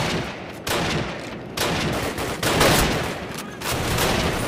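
Call of Duty gunfire in a night mission, with bursts of rapid automatic shots separated by short gaps, loud and close, continuing through the whole stretch.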